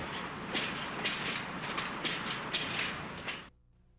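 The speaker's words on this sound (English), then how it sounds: "an early morning train from San Jose glides past the tower just moments from the station" Early morning commuter train from San Jose gliding past a signal tower near the station, a rhythmic clickety-clack of wheels over rail joints at steady pace that cuts off abruptly near the end.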